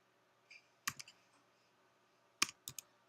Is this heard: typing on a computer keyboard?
yes